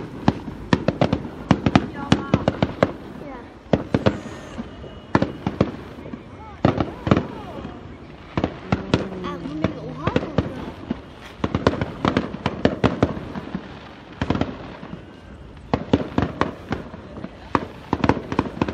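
Fireworks burst loudly and close on New Year's Eve in sharp crackling volleys and scattered single bangs, with people talking between the blasts.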